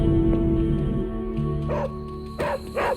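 Dog barking in the Marvel's Midnight Suns video game, a few short yips and barks rising over a steady game music bed with low hum.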